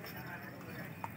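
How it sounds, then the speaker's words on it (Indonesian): Horse hooves clip-clop at a steady pace in the background of a busy outdoor scene at Telaga Sarangan lake, with voices talking over them near rabbit satay stalls. "Belakangku kuda."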